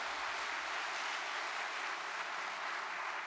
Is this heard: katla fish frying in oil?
no